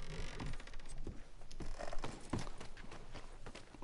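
Horse hooves clip-clop steadily in Red Dead Redemption 2, a walking or trotting rhythm of soft, close thuds mixed into a busy game soundscape.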